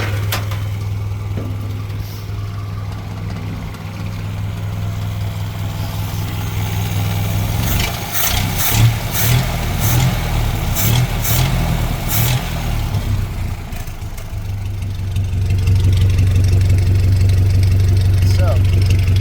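A 1930 Ford Model A sport coupe hot rod engine idles with a steady low rumble, briefly revving in the middle before settling back to idle, with a person talking over it.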